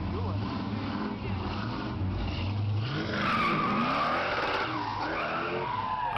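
A 1970 Chevelle SS leaving a local car show, its tires skidding and squealing over a loud, continuous engine roar that stays close and strained throughout.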